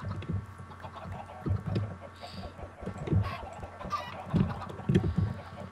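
A crowd of Minecraft video game chickens on a busy egg farm clucks in soft, scattered bursts, overlapping now and then, at moderate volume with no talk.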